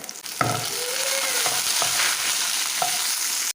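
Ginger, green chili and garlic sizzle steadily in hot oil in a pan, a dense continuous crackle broken by a few scraping stirs of a spoon, close and fairly loud with no voices.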